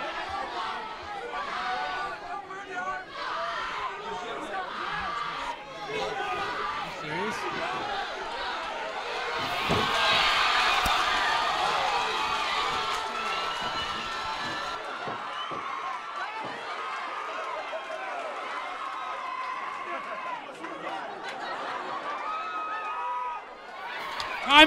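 A crowd at a BlacKOut Fighting Championship fight event fills the venue with a loud, continuous roar of chatter and cheering that swells near the middle. Voices talk throughout over the din.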